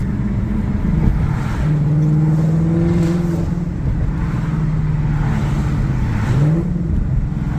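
Race truck with a Whipple supercharger, its engine droning loudly and steadily on the road, with pitch climbing and dropping as it revs through a rev-matched downshift, recorded from inside the cab.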